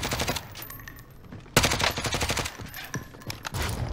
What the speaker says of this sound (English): Hostile fire.